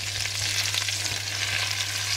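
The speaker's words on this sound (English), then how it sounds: "I've got this on high because I'm getting it to sizzle" Loud, steady sizzling of chopped Swiss chard frying in a hot pot on high heat, a dense crackling hiss with faint stirring and no talking.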